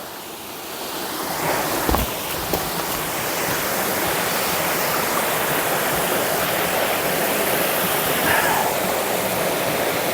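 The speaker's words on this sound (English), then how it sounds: "And we can look down on the waterfall." Steady, loud rushing of Lower Falls near Asheville, North Carolina, a mountain waterfall heard up close as a continuous broadband roar with a couple of brief knocks early on.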